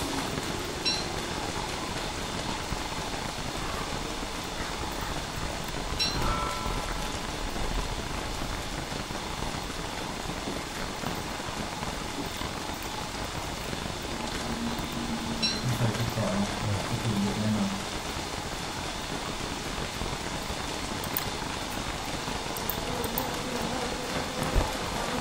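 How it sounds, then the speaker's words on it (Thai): Steady, even rain patters through the game Don't Starve Together, a continuous hiss of drops with a faint low rumble mixed in and no talk over it. "ด้านล่างฝนตกนะ"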